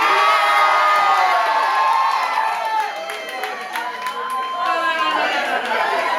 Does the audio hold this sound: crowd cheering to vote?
yes